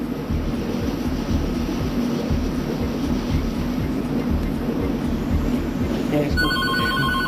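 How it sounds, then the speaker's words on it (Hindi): A cell phone rings steadily after being dialled during a call, a continuous tone over a droning background hum, with a voice speaking alongside. "तो जरा एक हम अभी फोन को डायल करते हैं।"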